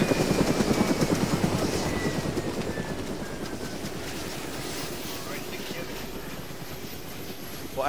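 A Black Hawk helicopter in a realistic military video game, its rotor thumping in a rapid steady rhythm that slowly fades as it moves off, loud and continuous throughout.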